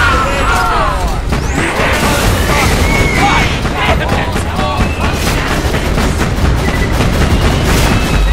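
A turret firing in the video game Borderlands 2, a loud continuous barrage of rapid shots and explosions filling the whole span, with shouting voices mixed into the chaos.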